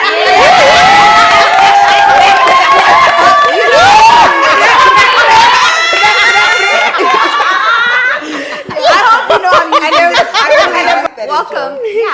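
A loud church audience cheers, shouts and laughs together, a continuous roar that thins out toward the end.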